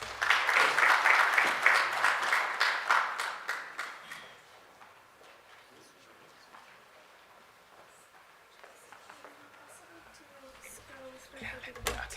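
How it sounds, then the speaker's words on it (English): Audience applause at an academic research outputs workshop, a dense burst of clapping for the first few seconds that thins out and fades into quiet room noise. "Let's give you a round of applause."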